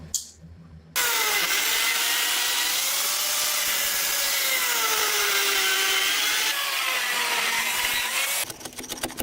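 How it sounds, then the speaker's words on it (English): A chainsaw cuts through rough wooden logs at a mountain building site, its engine buzzing loudly and steadily for several seconds with slight shifts in pitch as it bites into the wood, and a short quieter stretch at each end. "precision cuts are made with a chainsaw following the marked"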